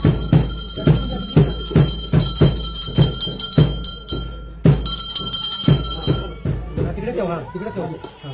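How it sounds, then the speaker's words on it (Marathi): A hand bell rings in a steady, even rhythm at close range during a home puja for a palkhi festival, with a pause midway. People talk over and after the ringing. "घंटा वाजतो ना."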